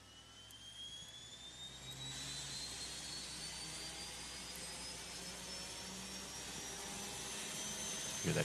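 An auxiliary power unit spools up in a simulated ToLiss A320neo airliner, a steady whine climbing in pitch and building to a loud, continuous turbine roar that swells toward the end.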